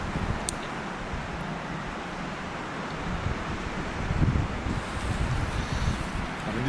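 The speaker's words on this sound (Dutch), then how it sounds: "Harde wind" Strong wind roars and rumbles against the microphone throughout, growing gustier toward the end.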